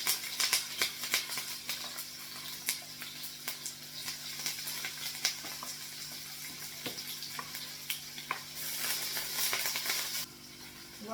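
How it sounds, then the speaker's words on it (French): Onions fry in hot oil with a steady, fairly quiet sizzle and crackle, broken by occasional sharp pops and light stirring, with no voice heard. "Je vais mettre les oignons dans l'huile."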